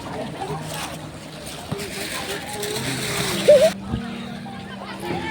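Feet wading through shallow river water at a riverside fair in Nepal, with soft splashes and sloshing up close while someone talks over them and a brief louder splash near the end.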